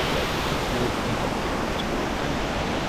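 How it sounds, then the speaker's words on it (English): Steady, dense rushing of a waterfall in Lauterbrunnen Valley, Switzerland fills the scene, a constant roar with no breaks, close and loud. "Another amazing waterfall."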